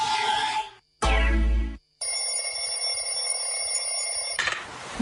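An alarm clock rings in an Italian radio advert for cappuccino, a loud metallic ring followed by a long bright electronic alarm tone with short silent gaps between bursts.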